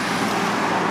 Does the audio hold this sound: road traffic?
yes